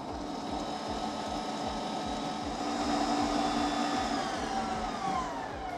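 An electric stand mixer whirs steadily up close while beating batter for a chocolate rolled yule log, a continuous motor hum with a rhythmic churning pulse and no talking.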